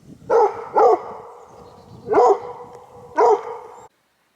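Dogs being taken for a walk on a frozen off-grid property after an ice storm bark four times: two quick barks, a pause, then two more spaced apart, close and loud with nothing else heard.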